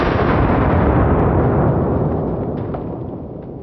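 A large rifle shot aimed at a watermelon outdoors, heard as a loud, sustained roaring blast that fills the clip and slowly fades, with no voices.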